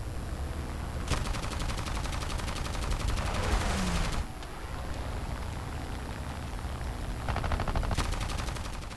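Aircraft machine guns in a Ki-61 arcade flight combat game fire as continuous rapid rattling bursts. They sound over a steady engine and wind roar, with a brief pause near the middle before the firing resumes.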